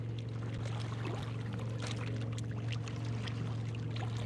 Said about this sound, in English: Water sounds rough. Yeah, it's just because the wind.